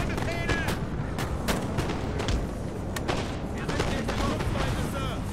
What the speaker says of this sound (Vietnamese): pháo mình bắn cấp tập vào lưng của nó này